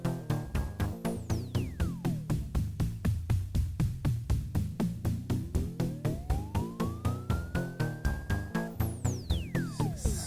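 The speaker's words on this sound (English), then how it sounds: "Slightly pulsed siren." A synthesizer tone pulses rapidly and evenly, an LFO modulating its filter, with slow sweeping pitch glides rising and falling like a siren, steady and electronic throughout.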